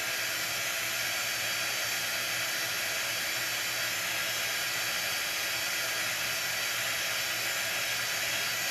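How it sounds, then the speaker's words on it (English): Chalk Couture craft dryer blowing gentle warm air, a steady broadband whoosh that holds at an even level throughout with no voices. "So this is our dryer from Chalk Couture."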